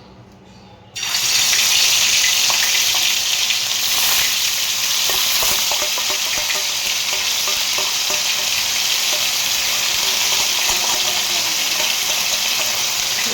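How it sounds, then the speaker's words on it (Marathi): Turmeric and a ginger-garlic-tomato paste hit hot oil on a pan with a sudden loud sizzle that settles into a steady, close frying hiss with light stirring. "तव्यावर थोडंसं तेल टाकलं त्याच्यामध्ये ना थोडीशी हळद हे हळद म्हणते अद्रक लसूण आणि टोमॅटोची पेस्ट आहे"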